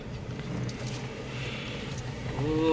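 A car drives along a sunny road in Goa, its engine a steady close hum with tyre and road noise, the engine rising toward a revving acceleration near the end.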